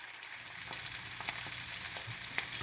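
Sockeye salmon fillet frying in a pan, a steady dense sizzle with small crackles and pops throughout, close and continuous with no talking.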